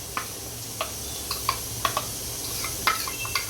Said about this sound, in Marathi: मालवणी पद्धतीने असंच वरतून वाटण टाकलं आणि हे आपण हलवून घेऊया